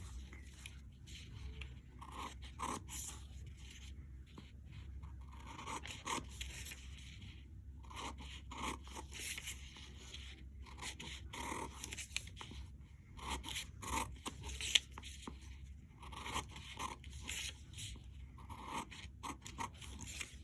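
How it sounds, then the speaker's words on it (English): Scissors cut short slits into a paper plate, heard as quiet, repeated snips and scrapes spread irregularly over a long stretch of near-silence. "you're going to go through in between every hour number and cut about an inch or an inch and a half slit"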